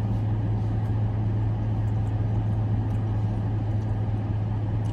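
A car idles right beside the listener, giving a steady, close, low engine drone with a constant hum and no change in pitch throughout.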